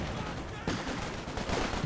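Gunfire crackles and grenade blasts thump through a Company of Heroes 2 battle, dense and continuous with sharp bursts, while a voice talks faintly underneath.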